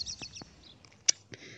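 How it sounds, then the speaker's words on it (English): Small birds chirp and call in short, scattered tweets, faint and a little distant, with one sharper, louder peep standing out amid quiet outdoor background. "Look at them go, crazy birds."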